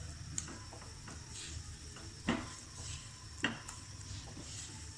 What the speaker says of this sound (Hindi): अब मैं 1 मिनट तक बिल्कुल लो फ्लेम पे इसको ऐसे लगातार चम्मच चलाते हुए कुक करूंगी